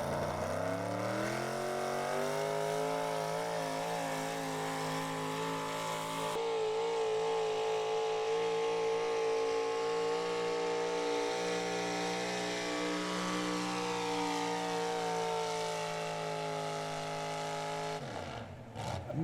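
A 1979 GMC pulling truck's engine roars steadily at high revs through a full pass down the track at a truck and tractor pull, loud and close with a sustained, shifting drone and no talk.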